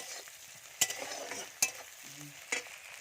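Masala with tomato, onion and ginger frying over a clay earthen stove, a soft low sizzle punctuated by three sharp utensil knocks, close and brief, no talk.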